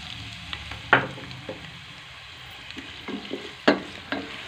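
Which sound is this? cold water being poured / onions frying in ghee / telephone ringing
onions frying in ghee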